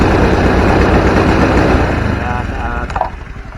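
A Honda Vario 110 scooter engine held at half throttle with weak ignition, running rough and uneven before dropping off, close and loud, while someone talks over it.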